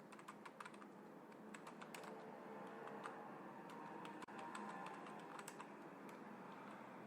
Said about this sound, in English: So after double quotes I type that thing.